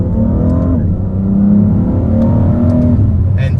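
BMW M V6 biturbo revving and accelerating in Geneva, its exhaust note swelling and falling in a loud, close roar with brief pops near the end.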